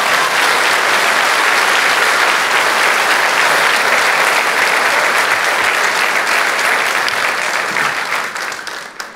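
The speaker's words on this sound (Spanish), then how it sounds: "Denle un aplauso fuerte al Señor" A church congregation applauds loudly during a sermon, a dense, sustained roar of many hands clapping at full strength that holds steady for several seconds before thinning and tapering off at the end.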